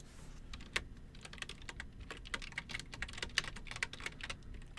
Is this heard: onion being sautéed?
no